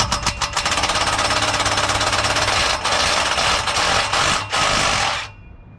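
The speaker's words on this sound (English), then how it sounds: "I'm just gonna loosen all these bolts and then realign the exhaust." Pneumatic impact wrench rattling loose rusty exhaust bolts on a racecar, a loud continuous hammering burst with a few brief pauses before it cuts off near the end.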